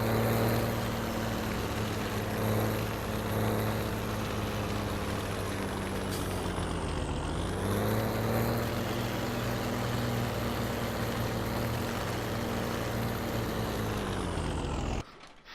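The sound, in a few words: tractor driving in video game Farming Simulator 17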